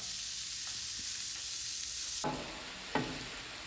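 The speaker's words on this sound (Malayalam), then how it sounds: "നമ്മൾ ഉള്ളിയും പച്ചമുളകും അത് നല്ലപോലെ വഴറ്റിയെടുക്കാം." Onions and green chillies sizzle in hot coconut oil for a fish curry, a steady close frying hiss with a couple of soft stirring knocks near the end.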